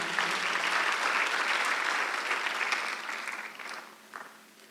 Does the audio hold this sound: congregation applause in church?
yes